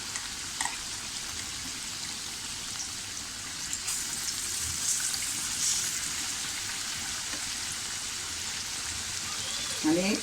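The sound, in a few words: bread patties frying crisp in a pan on low gas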